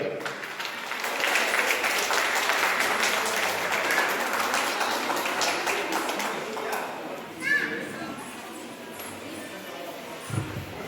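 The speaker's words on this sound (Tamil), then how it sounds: "உங்களுடைய அரங்கம் வளரக்கூடிய கரகோஷங்களுடன் பிளீஸ்" Audience clapping fills the hall during a prize-giving at a 25th annual day celebration, a broad, crackling patter for several seconds, then thinning into scattered claps with a voice talking over it.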